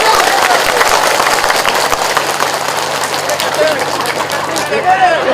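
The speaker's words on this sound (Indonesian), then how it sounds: "Tepuk tangan dulu." Audience applause at an Islamic sermon in Banyumasan Javanese, a dense steady wash of clapping filling the whole stretch and staying loud throughout, with some crowd noise mixed in.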